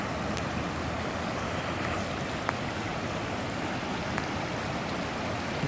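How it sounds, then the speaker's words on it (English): Floodwater from the 2013 Big Thompson Flood rushes steadily from the river through a parking lot, a continuous broad roar of running water with no voices. "You can see all the river water running right through here to the parking lot."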